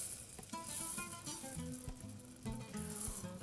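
Rice dropped into a hot pan with aromatics and orange zest, crackling and sizzling softly up close, with faint clinks and stirring as it fries.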